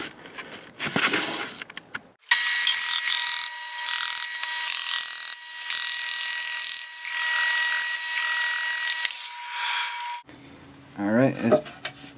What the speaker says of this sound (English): I'm just gonna do it on the belt sander real quick.